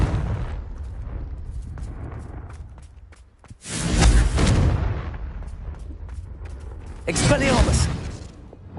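A fiery Confringo spell blast from the Hogwarts Legacy video game bursts loudly twice, a broad explosive roar around four seconds and another near seven, over game ambience and muffled voices.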